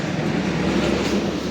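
A train at a railway platform in Jodhpur gives off a steady, loud rumble of rail and station noise that holds throughout, then cuts off abruptly at the end, with no talking.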